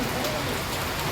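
Heavy rain pours down during an evening thunderstorm with lightning in Junagadh, a dense, steady wash of drops pattering on surfaces, with a voice speaking faintly underneath.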